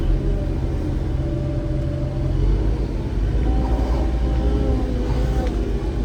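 Car pulling away and driving into a heavy snowstorm, a low steady engine and road rumble heard from inside the vehicle, continuous and moderately loud with faint rising engine tones.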